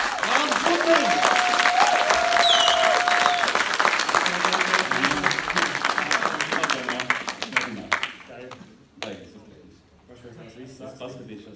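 Loud audience applause welcoming the next speaker at a young marketers' event, thick clapping with some cheering that fades after about eight seconds into scattered claps and a voice talking.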